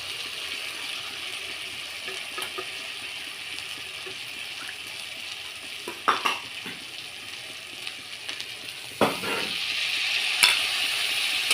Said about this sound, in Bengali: এবার আমি দইটা দিয়ে দেবো